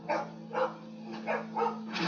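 A dog in the video game The Walking Dead Season 2 barks repeatedly in an even rhythm, five moderate barks over a low steady hum.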